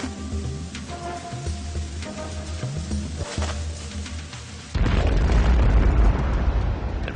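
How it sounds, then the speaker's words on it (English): A mine explodes under fortress foundations during an Ottoman siege, a loud sustained roar and rumble breaking in after a stretch of dramatic music with low booms. "The resulting explosion signaled a furious 6-hour Ottoman assault."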